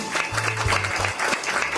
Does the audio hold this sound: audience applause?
yes